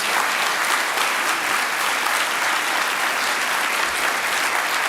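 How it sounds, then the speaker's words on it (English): Sustained, dense audience applause for sponsors at a closing event celebrating 20 years, a steady wash of many hands clapping for about five seconds with no talk over it. "So round of applause for those."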